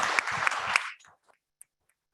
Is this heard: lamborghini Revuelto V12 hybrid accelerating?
no